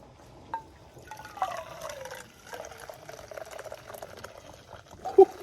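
Hot coffee poured from a Stanley French press into a cup at a campsite: a thin liquid stream trickles and gurgles at a rising pitch for a few seconds, close and quiet, ending with a small clink.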